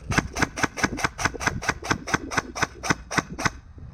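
Lancer Tactical Interceptor Gen 3 blaster firing a rapid, even burst of about fourteen sharp mechanical cracks, close and loud, then stopping.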